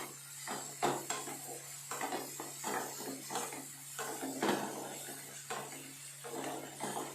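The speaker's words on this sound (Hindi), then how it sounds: "सो यहाँ पर हमारा प्याज पक रहा है एकदम अच्छे से, गोल्डन ब्राउन होने तक हम इसको पकाएंगे।" Onions frying toward golden brown in a pan, with a faint, steady sizzle and occasional light clinks of a stirring utensil, quiet and close with no talking.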